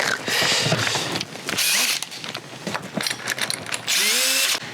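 Power tool tightening clamps on a water treatment unit during maintenance and winterization, loud close whirring bursts that start, stop and change pitch, with a rising whine near the end.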